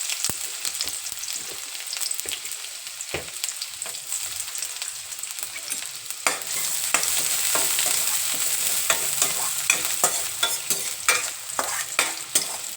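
Chopped onion fries in hot oil in a pan for pasta, a loud close sizzle running throughout, broken by frequent scraping stirs of a spoon that grow busier midway.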